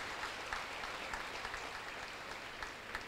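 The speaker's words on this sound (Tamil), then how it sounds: "ஒரு பெரிய கைத்தட்டல் நம்ம ரஷ்யன் எம்பசி பீப்புளுக்கு கொடுத்துர்றோம்." Steady audience applause for visiting Russian embassy guests, a dense, continuous wash of many hands clapping throughout.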